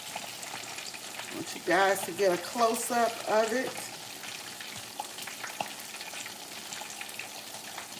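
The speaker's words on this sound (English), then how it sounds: "I am frying flounder and cooking grits, and I'm frying it whole" Whole flounder deep frying, a continuous crackling sizzle that runs throughout, with a person speaking briefly over it in the middle.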